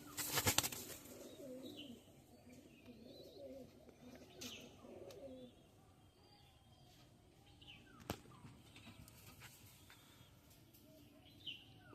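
A caged male pigeon coos in low, soft, repeated phrases for the first few seconds. Faint chirps and occasional clicks follow, with light background noise throughout.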